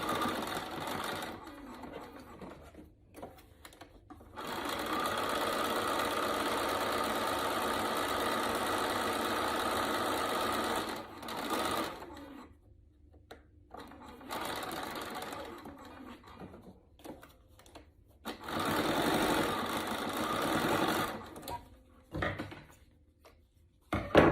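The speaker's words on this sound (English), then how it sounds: "I'm just going to top stitch with my machine" Close sewing machine topstitching fabric board shorts in several bursts of steady, rapid stitching, separated by quiet pauses.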